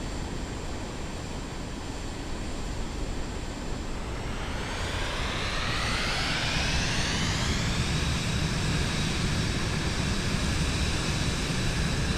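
A steady, loud airplane engine roar in the cabin during the takeoff roll, with a whining tone that climbs in pitch as the aircraft speeds up toward an 85 mph takeoff.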